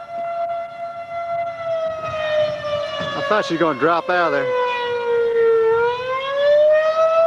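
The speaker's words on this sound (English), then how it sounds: "Well, our sirens work anyway." Civil defense tornado warning sirens wail in a long, sustained rising and falling tone across an outdoor area during a tornado, while people talk over them partway through.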